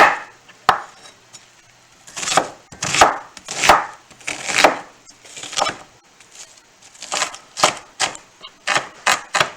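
A knife chops an onion on a board in quick, sharp strikes, close and loud. Clusters of rapid cuts are separated by brief pauses, and no one speaks.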